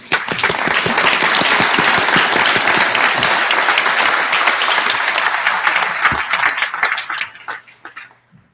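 Sustained audience applause fills a convocation ceremony in a memorial hall, dense and loud clapping from a large crowd that continues steadily for several seconds before thinning out and fading near the end.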